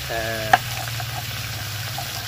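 Finely ground turmeric paste hits hot oil in a wok, giving a steady close sizzle with one sharp clink of a utensil early on and a faint voice briefly in the background.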